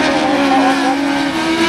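A class 8 autograss racing car, small and blue and white, runs steadily at close range with a sustained engine note and no break, while a commentator's voice is faintly present.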